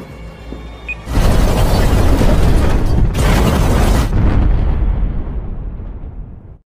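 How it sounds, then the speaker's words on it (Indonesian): A heavy car bomb explosion in a film bursts out suddenly, followed by a second roaring blast, then a long rumbling decay that fades away. "meledakkan Mauricio dengan mobilnya sendiri yang sudah dipasangi bom"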